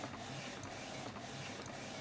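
A Canon iP4950 inkjet printer runs a test print, its mechanism whirring steadily with faint periodic clicks of the print head passing back and forth, heard alone without talk.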